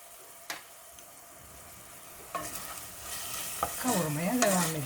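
Garlic and other ingredients being sautéed and stirred in a pan for Kütahya-style sıkıcık soup, with a steady sizzle, spoon scrapes and clinks, growing fuller and louder toward the end.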